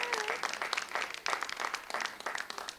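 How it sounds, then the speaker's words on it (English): Concert audience clapping in a short burst of scattered hands, fairly close and moderately loud, with a brief bit of voice near the start and no other music. "you could clap because it's a concert"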